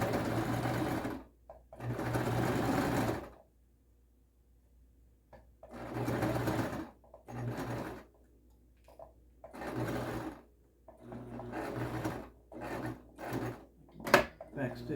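A sewing machine runs in repeated short bursts while stitching and back-stitching a special needs face cover with neck shield, each run a steady whirring buzz separated by quiet pauses.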